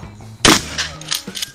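Shotgun fire during a Level II shotgun class drill in Edinburgh, Indiana: one sharp, loud blast followed by fainter echoing cracks and reports in the open air.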